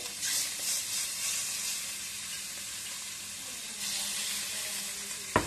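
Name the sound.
food being laid into hot oil and sizzling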